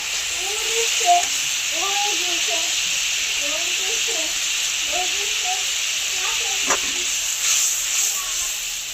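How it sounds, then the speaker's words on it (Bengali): Fish curry gravy boils in a pan, giving off a steady, even hiss and bubbling that runs throughout beneath a person talking. "গ্রেভিটা ফুটে উঠেছে, এবার মাছগুলো দিয়ে দেবো।"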